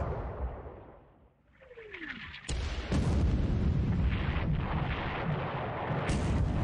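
WWII naval battle video game, with the carrier Saratoga and the battleship Mutsu exchanging fire at short range: a whistling incoming shell, then heavy booming gunfire and explosions rolling into a loud, sustained rumble without speech.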